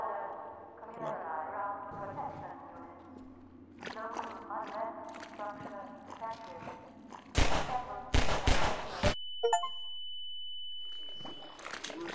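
Half-Life 2 combat: a few sharp gunshots and a loud explosion burst out in the middle of the stretch, set among game sounds with a voice talking over the action.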